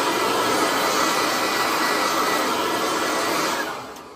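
A mini electric cordless leaf blower runs continuously at close range, a steady loud whoosh of fan and motor that tapers slightly at the end as it powers down.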